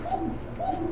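Baghdadi pigeons cooing close by at a pigeon sale in Bangladesh, two soft rolling coos within a single second over a steady background hum.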